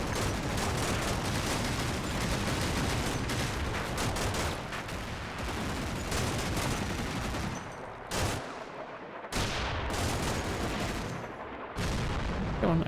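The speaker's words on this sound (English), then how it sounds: "That could just be our spotting rounds for the mortars" Mortar rounds land in the Combat Mission: Cold War video game, a dense, sustained roar of explosions and gunfire rumbling loud and continuous, with brief gaps near the end.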